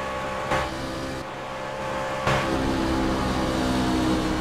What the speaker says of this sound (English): I can just hear my truck, how sick it is.